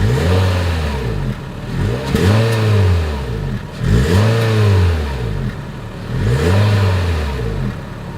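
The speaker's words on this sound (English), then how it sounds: "As always, here is that exhaust clip." A 2022 Honda HR-V engine revs repeatedly, each rise in pitch followed by a fall, a loud throaty exhaust note close by with no talking.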